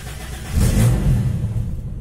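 A Toyota Kijang Super fitted with a new battery cranks and starts quickly, its engine catching into a loud, close rumble that swells briefly and then settles into idle.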